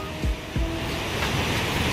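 Steady broadband rushing of falling water at Jaein Falls, a waterfall dropping into a deep pool in a basalt-columned gorge, continuous and moderately loud, with a couple of soft thumps near the start.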